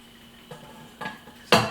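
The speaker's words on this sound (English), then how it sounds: "looks like it's just going to be a slow drip, drip, drip" Water drips slowly from a draining pan left in a kitchen sink, making three separate small drips or clinks about half a second apart, close by, with the last one the loudest.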